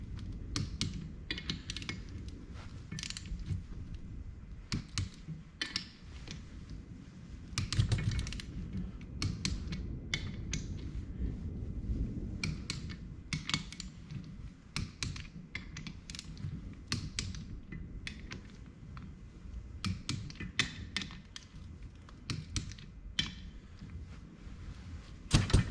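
A torque wrench tightens bolts on a Power Lok limited-slip differential for a Dana 60/70/80 axle, making a dense run of sharp mechanical clicks and ratcheting over a low workshop rumble, with no talking.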